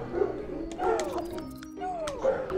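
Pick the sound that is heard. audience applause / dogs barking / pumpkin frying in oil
dogs barking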